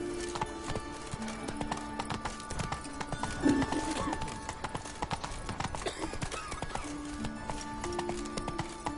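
Hooves of Roach, a horse in The Witcher 3: Wild Hunt video game, clip-clop in a quick steady galloping rhythm throughout, close and continuous over game music with a brief snort or whinny partway through.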